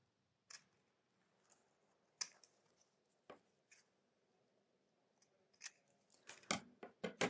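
Scissors cut a zipper tab to size: quiet, sharp snips, isolated at first and then coming quickly in a cluster at the end, close by in an otherwise silent room.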